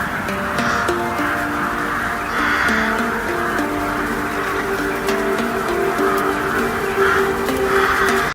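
Several crows caw in repeated harsh calls at a steady rhythm, fairly loud and close, over a constant background hum.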